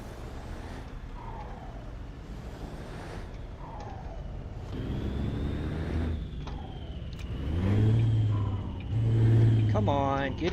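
Engine of an International LoneStar truck in a trucking video game, a steady low drone that swells and revs toward the end, with a rising whine and a short hiss, heard under ongoing talk.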